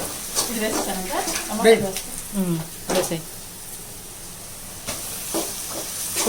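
A ginger, garlic and coconut paste sizzling in hot oil for a Rayalaseema-style mutton curry, a soft steady frying hiss with occasional stirring scrapes, close by and mostly alone.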